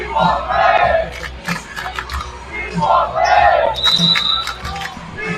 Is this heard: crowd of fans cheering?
yes